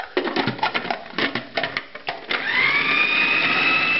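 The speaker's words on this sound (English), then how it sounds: "And now we're going to blitz this up." A blender blitzes a cream mixture in a classic French kitchen: after a second or two of close clattering and knocks, the motor kicks in with a loud, steady, high whirring whine that holds to the end.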